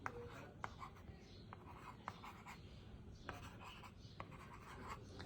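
A pen or stylus scratches faintly across a magic slate writing tablet, soft continuous scribbling with small taps and strokes in a quiet room.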